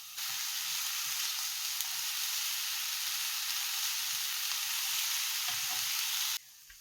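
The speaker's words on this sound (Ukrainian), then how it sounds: "І висипаємо цибульку і підсмажуємо до прозорого стану." Chopped onion fries in a little oil in a pan. A steady, close sizzle hisses evenly for several seconds and then stops abruptly just before the end.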